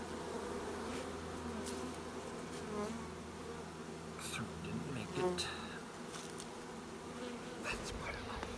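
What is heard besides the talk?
honey bees moving into a new hive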